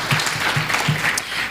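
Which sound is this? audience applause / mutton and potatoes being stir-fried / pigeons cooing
audience applause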